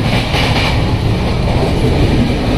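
Steady loud rumble and roar inside a moving passenger train carriage, a continuous broadband clatter of rails and wheels with no break and no speech.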